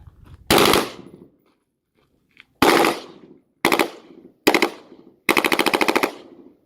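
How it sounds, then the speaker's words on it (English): M-16 rifle fired full auto by a shooter moving forward on a training range: five sharp, loud bursts of rapid shots separated by short pauses, with no talk over them. "he's going to be transitioning to shooting on the move. Full auto."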